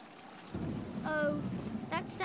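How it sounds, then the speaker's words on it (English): A brief thunderstorm in the video game Oscar the Balloonist: a low rumble of thunder with rain, fairly faint and short, with a few higher game tones near the end. "Sounds like a thunderstorm."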